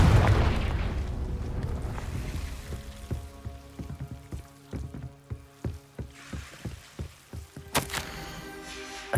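A Confringo spell explosion in the video game Hogwarts Legacy: an initial blast decays into a run of rhythmic thuds and clattering debris, closing with a bright, ringing magical flare.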